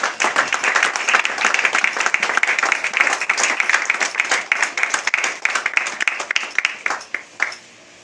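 A church congregation claps together in a dense, lively burst of applause that carries steadily for several seconds before tapering off abruptly.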